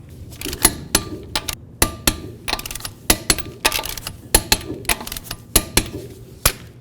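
A wrench works on the wheel lug nuts of a 1998-2002 Honda Accord, giving a quick series of sharp metallic clicks and ratchet ticks, close and fairly loud, with no voices.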